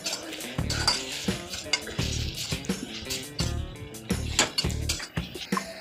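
Dill greens tossed with turmeric, peanut powder and salt in a pan, with repeated clinks and scrapes of a spoon against metal and soft sizzling in an irregular stirring rhythm, close and fairly loud.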